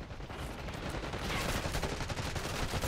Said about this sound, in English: Somebody's shooting us from behind.